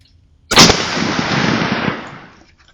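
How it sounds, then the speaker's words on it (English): A single loud 6.5 Creedmoor rifle shot on a deer hunt, a sharp close crack followed by a long rumbling echo that fades over about two seconds. "Here are the first 2 shots with the new setup."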